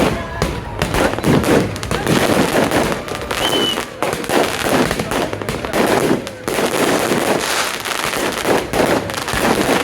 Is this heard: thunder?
no